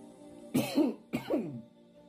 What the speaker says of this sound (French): Donc, nous n'arrêtons pas de tousser.